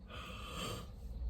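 A person yawns with a long, breathy exhale close to the mic, with soft wheezy air that fades out near the end; no talk.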